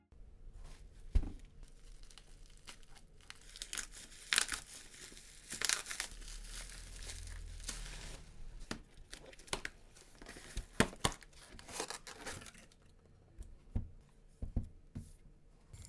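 Packaging for an itel RS4 phone crinkles and tears close up during an unboxing, with irregular rustling, crackling and occasional sharp pops, quiet overall and with no talking.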